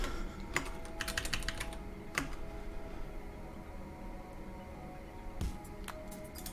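Code being typed on a computer keyboard, with scattered key clicks in short bursts over a steady background hum, fairly faint and with no talking.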